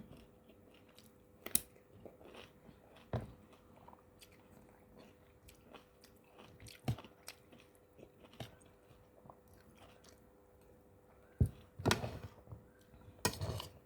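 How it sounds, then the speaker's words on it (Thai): Someone eats catfish larb with boiled vegetables, making soft close chewing and occasional sharp crunchy bites against a quiet background, with no talking. "กินลาบปลาดุกผักไม่ค่อยมีแต่มีผักต้มอยู่"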